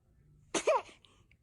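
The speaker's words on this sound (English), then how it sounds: "Ay, ay, ay, esos estornudos." A baby gives one small, sudden sneeze, a single short burst that is fairly quiet against a still background.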